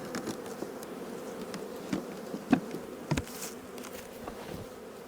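Honeybees buzz steadily around a hive during splitting, a continuous close hum with a few louder passes and faint knocks.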